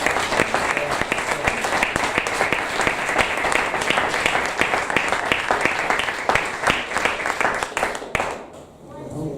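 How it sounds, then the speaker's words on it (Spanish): A church congregation at a Sunday service applauds, a long, loud, sustained wave of many hands clapping with crisp individual claps audible, fading out near the end into quiet room tone. "Denle un aplauso al Señor."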